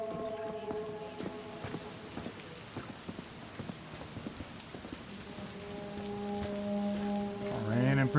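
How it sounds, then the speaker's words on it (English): Heavy rain drums steadily in the Cyberpunk 2077 game soundscape, with a sustained tonal hum and scattered taps, and a rising whooshing effect near the end. "Raining pretty heavy right now."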